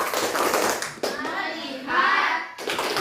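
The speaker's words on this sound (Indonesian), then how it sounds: "Kita tepuk fokus bersama-sama." A class of children does a rhythmic focus clap together in a classroom, a short burst of group clapping with a brief pause before a second patterned round, close and fairly loud.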